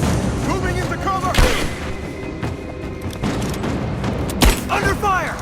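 Gunfire in the video game Rise of the Tomb Raider, two sharp loud shots about three seconds apart over a busy layer of game sound and voiced character shouts.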